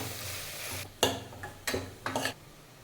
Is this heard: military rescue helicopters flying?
no